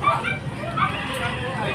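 Dogs bark and yip amid crowd hubbub and babble at a pet market in Bocaue, the barks fairly close but mixed into the busy background chatter throughout the short stretch.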